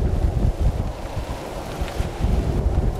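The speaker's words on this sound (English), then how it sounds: "we got Chad driving the boat here, way into the ocean now" Wind and ocean waves rush around a J105 sailboat at sea in a loud, continuous blustery roar with surging water, close to the microphone, with no voices.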